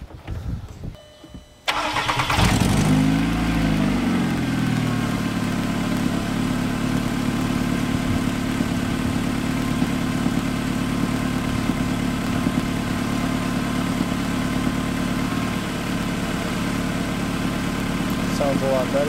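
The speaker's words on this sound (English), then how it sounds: "We hop in the car and start it up." A Volkswagen Golf Mk4, fresh spark plugs and wires fitted, cranks briefly and fires up, then settles into a steady, even idle that carries on close by for the rest of the stretch.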